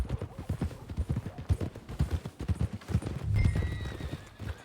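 Horse hooves clip-clop in a quick, steady rhythm, close and fairly soft, with a brief whinny near the end, in the video game Red Dead Redemption 2.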